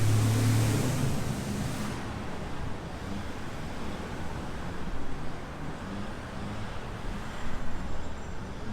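Steady broadband traffic rumble of cars passing on a quiet downtown Chattanooga street, continuous and fairly loud with a swell near the end.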